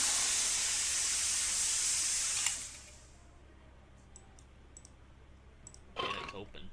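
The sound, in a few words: pressure cooker being opened, hissing steam, in a cooking video game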